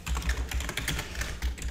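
Quick, close clicks of fingers typing on a computer keyboard, an irregular patter of keystrokes with no voices over it.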